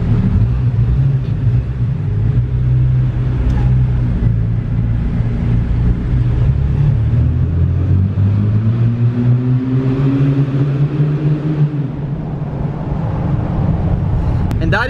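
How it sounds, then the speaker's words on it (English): A Jeep with a muffler delete idles and revs, a loud, close, deep exhaust rumble holding steady and then rising and falling in pitch through several throttle blips. "That is just a muffler delete."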